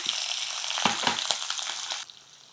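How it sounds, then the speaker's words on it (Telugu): Chopped green chilies sizzle and splutter in hot oil with turmeric, a dense close hiss dotted with quick crackling pops that suddenly drops to a quieter simmer near the end. "ఈ పచ్చిమిర్చి వేగాక మనకి నూనె చిట్లుతుంది"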